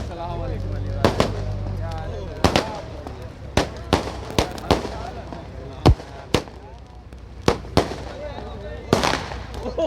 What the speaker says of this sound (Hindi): अभी फायर वर्क देखा आपने